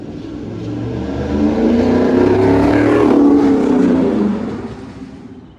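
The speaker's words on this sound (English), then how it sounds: "I'm gonna do a little drive-by here real quick and we'll get the exterior exhaust sound" A car fitted with a Corsa exhaust drives past from outside. The exhaust drone grows louder as it approaches, peaks near the middle, and fades as it moves away, with no talking.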